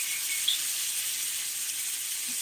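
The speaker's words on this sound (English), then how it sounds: "That's that sizzle that you guys hear right now." A steady, bright hissing sizzle runs unbroken throughout, like tri-tip steak searing on a hot surface, with no talking.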